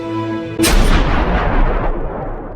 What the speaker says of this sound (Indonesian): lalu menembak dirinya sendiri